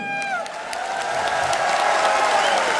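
Dense applause and cheering from a large crowd packing a stadium for an anniversary event, steady and loud throughout, with a few whoops and an announcer's voice faintly underneath.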